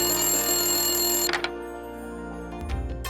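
A telephone rings loud and close with a continuous electronic ring that cuts off partway through, leaving a quieter room with faint noises afterward.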